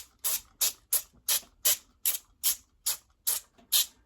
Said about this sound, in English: I'm going to spray them with olive oil